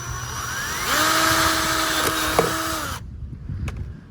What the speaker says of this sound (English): use your 1/4 inch drill again to drill through here.